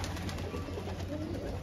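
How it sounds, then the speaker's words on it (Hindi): Pigeons let out of their loft coo softly in a low, steady murmur at moderate distance, with a faint flutter under it. "देख सकते हो कबूतर खोल दिया मैंने"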